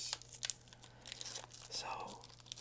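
Scissors cut into a Pokémon card foil pack and the wrapper is torn and crinkled open, a few close, crisp rips and rustles heard quietly over a soft hum.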